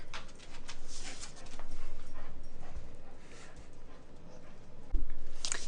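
A dog whimpers and yips in brief high bursts through a room, the sounds coming and going close to the microphone, with a sharper thump near the end and no talking.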